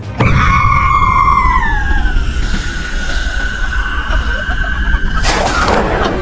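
A loud, drawn-out, distorted demonic scream slides downward, holds on an eerie note, then ends in a sudden harsh burst.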